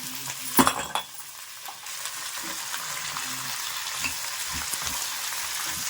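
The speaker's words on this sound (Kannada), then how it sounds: "ಕಾಯಿ, ಪುದೀನ, ಕೊತ್ತಂಬರಿ ಎಲ್ಲ ಸ್ವಲ್ಪ ಫ್ರೈ ಆಗಬೇಕು" Coconut, mint and coriander fry in a pan with a steady bright sizzle, with a few stirring scrapes and clanks near the start and soft knocks later, close up with no voices.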